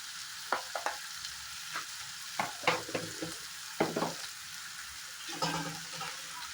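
Butter sizzling in a hot pan while chicken is stirred: a steady frying hiss carries under irregular scraping and clattering strokes of the spoon, close and moderately loud.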